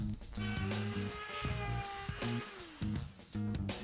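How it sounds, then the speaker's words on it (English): Power sander working over a pallet wood planter box up to 220 grit, a steady whirring drone that pulses in short bursts as the tool is pressed and lifted, close and continuous with no talk. "then we're just going to sand it up to 220 grit"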